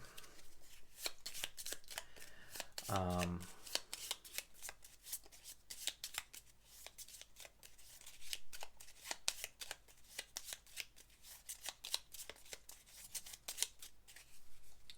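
Rapid riffling of cards from the board game Paladins of the West Kingdom being shuffled, a dense run of crisp clicks and snaps with a brief riffle burst early on, close and quiet.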